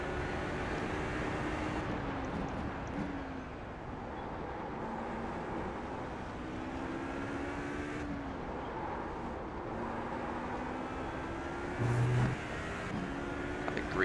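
A race car engine in the iRacing simulator, an HPD prototype lapping Sebring, drones steadily and loudly with rising and falling pitch through gear changes, continuous throughout without any talk.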